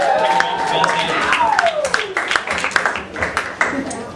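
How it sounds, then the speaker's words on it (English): An audience at a comedy show claps, starting as a steady round mixed with a voice and thinning into scattered, individual claps. "Let's give another round of applause for Ben Tate."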